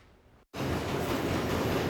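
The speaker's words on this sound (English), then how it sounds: "As a freight train plunges into the more than century-old tunnel by Camden Yards in the south end" Freight train plunging into the century-old Howard Street Tunnel by Camden Yards in Baltimore, a brief hush then an abrupt loud, steady rumbling roar of rail cars and rushing air that holds close and constant.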